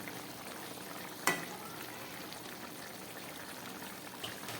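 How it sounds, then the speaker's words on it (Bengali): Potatoes added to a mushroom curry cooking in a pan, a soft continuous sizzle with one sharp clink as they drop in and a faint clatter near the end. "কিন্তু আমি একটু আলু দিচ্ছি"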